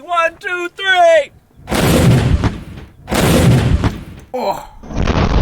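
Two heavy gunshots fired at a gun safe, each a loud booming blast with a rolling decay, following a shouted countdown and voices talking between the shots.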